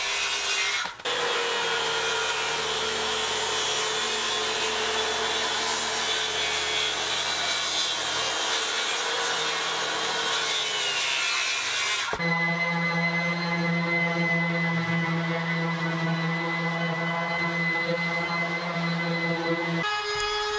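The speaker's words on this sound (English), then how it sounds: "using a straight edge with my circular saw, I'm going to trim the tabletop nice and square" A circular saw run along a straight edge trims a tabletop made from yard logs, cutting steadily and loudly through the wood for about twelve seconds before the blade spins down with a lingering whine.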